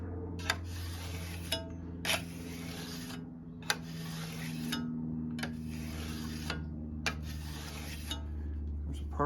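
A steel scraper edge drawn repeatedly across a very smooth polishing file to sharpen and burr it, about six evenly spaced rasping strokes over a steady low hum.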